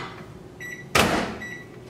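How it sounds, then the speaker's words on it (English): A microwave hums steadily, then a sharp thud of its door closing, followed by a few soft beeps as it starts running again. "now you're going to pop it back in the microwave for 90 seconds"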